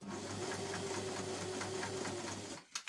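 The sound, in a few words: sewing machine sewing reusable snack bags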